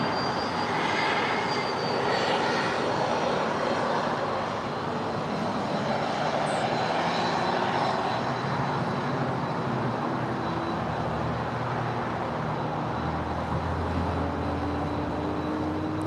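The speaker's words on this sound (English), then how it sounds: "we just had Delta Airlines Flight 351 coming in from JFK. It's a 767-300ER" Delta Airlines Boeing 767-300ER jet arriving at LAX, a steady broad engine roar that holds loud and close for the whole stretch with a slowly shifting whine, no voices.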